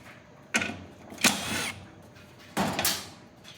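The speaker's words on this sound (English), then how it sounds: "take these screws out" Screws being backed out of the convection fan bracket on an Austroflamm/Rika pellet stove, three short mechanical whirring bursts with brief pauses between, close by and fairly loud, no talking.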